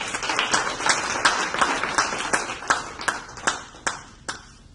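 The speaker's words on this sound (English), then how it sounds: "So let's give the panel a big round of applause." Applause for a panel at the end of a class session, a crowd clapping steadily and then thinning to a few scattered, separate claps as it fades.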